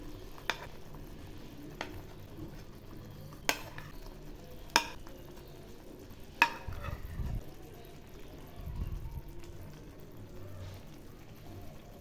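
A spoon stirs palak paneer in a pan with spinach, kasuri methi and paneer cubes. Soft scraping and low simmering bubbles run beneath a few sharp clinks of the utensil against the pan.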